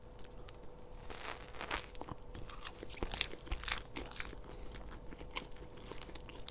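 Close, quiet bites and crunchy chewing of a McDonald's cheeseburger, a run of soft wet mouth sounds and crisp crunches recorded intimately with no talking.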